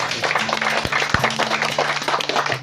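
Audience applause at a legislative constituency recess meeting in Sikka regency, steady broadband clapping throughout with a low hum and a couple of thumps underneath.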